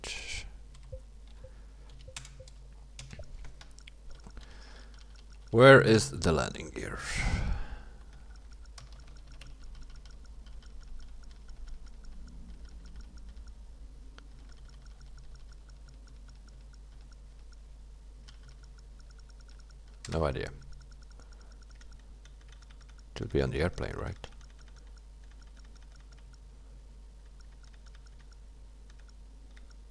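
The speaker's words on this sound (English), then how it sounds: "I'm on a AZERTY keyboard, by the way" Light clicking keystrokes on an AZERTY computer keyboard tick along softly through a quiet stretch, broken by a few louder bursts and occasional speech.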